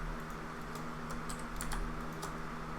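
Computer keyboard shortcuts are typed while 3D modeling a rolling pin. Scattered light key clicks come in small bursts over a steady low electrical hum, with no one talking.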